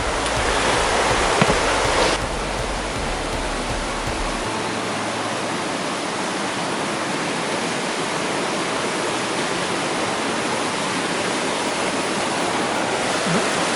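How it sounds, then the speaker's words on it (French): A rushing mountain torrent on the GR20 trail in Corsica roars as a loud, steady wash of broadband water noise, constant and close, with no voices. "Un sacré torrent à traverser."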